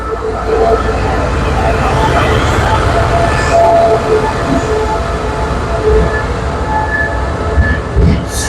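Thai diesel locomotive hauling train 555 from Laem Chabang toward Udon Thani, passing close and loud with a continuous heavy rumble of wheels on rails and occasional faint squeals.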